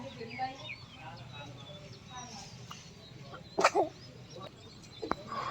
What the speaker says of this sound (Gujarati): ગામડાના સરસ મોર બોલે છે.